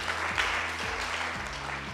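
A room full of audience members applauds in a continuous patter of clapping, moderate in level and steady for the whole stretch, with a low hum running underneath.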